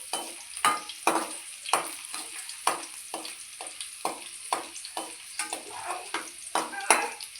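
Curry leaves roast in a little oil in a pan while a utensil stirs them in regular scraping strokes, each stroke bringing a short burst of sizzle over a quiet, steady frying hiss.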